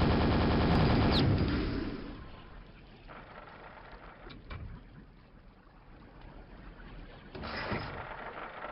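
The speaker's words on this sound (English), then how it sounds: "nail gun time." A nail gun in the video game Quake fires a loud, rapid mechanical burst for about a second. Quieter clanks and game noises follow.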